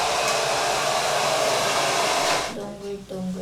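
Hair dryer blowing steadily on short-to-medium styled hair with a loud, close, rushing airflow that cuts off abruptly, leaving a quieter pause with a faint hum.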